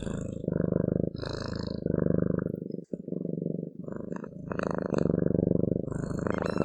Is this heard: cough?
no